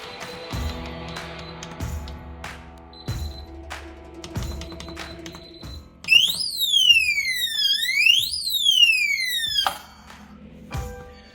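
An SF0107 rifle safe's alarm goes off, first a run of steady electronic tones and beeps, then a loud warbling siren that sweeps up and down for several seconds before cutting out, with no talking.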